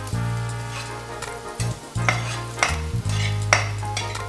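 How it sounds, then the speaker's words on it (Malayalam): Garlic frying in hot oil in a pan, a steady sizzle with intermittent scraping stir strokes over a constant low hum, close and alone with no talk. "വെളുത്തുള്ളി അങ്ങോട്ട് ചെറുതായിട്ടൊന്ന് ഫ്രൈ ചെയ്യുക."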